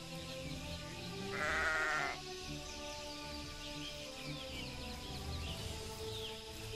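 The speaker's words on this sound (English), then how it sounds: "A sheep!" A sheep in the survival video game Keep Up Survival gives one brief bleat over a steady game soundscape of wind and ambient tones, moderately close.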